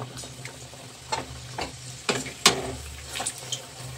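Jaggery pitha batter ladled into hot oil, with a steady low frying bubble broken by several sharp spatters and scrapes at irregular intervals, close and moderately loud.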